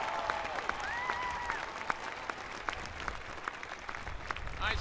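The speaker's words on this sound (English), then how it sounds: "Put your hands together for them." Sustained applause from a large outdoor commencement crowd at the University of Michigan for graduates' parents and families, steady dense clapping with a few whistles and cheers rising over it.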